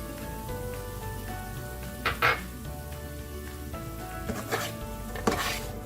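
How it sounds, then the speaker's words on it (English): Grated coconut is stirred into a red chard and baby Yukon potato stir fry as it sizzles in the pan. A spoon scrapes and stirs in a few distinct strokes over steady frying. "Just make sure that that coconut is mixed in well."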